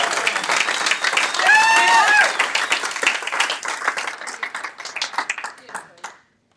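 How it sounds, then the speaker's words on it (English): A real estate auction crowd gives a round of applause for Maria Rosa of Walker & Co: dense, sustained clapping with voices over it, tapering off and stopping near the end. "I want a special round of applause, please, for Maria Rosa."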